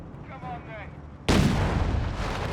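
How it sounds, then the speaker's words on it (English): A tank gun round strikes a Crusader tank in the Company of Heroes 3 battlefield: a quiet lead-in, then a sudden loud booming impact that rolls on as a sustained rumble. "That crit was a nice hit on the Crusader tank there."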